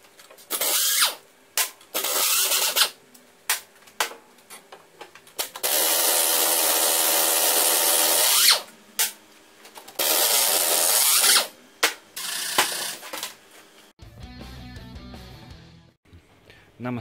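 A power tool whirs in repeated bursts of a few seconds each while undoing the bolts that hold the steering knuckle to a shock absorber on a Peugeot Boxer van, with pauses and ratcheting clicks between runs, close and loud.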